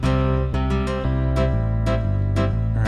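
Keyboard arrangement in a bluesy style with a guitarist-type accompaniment: steady bass notes and chord stabs with strummed, harmonically rich attacks recurring about every half second, loud and continuous with no talking.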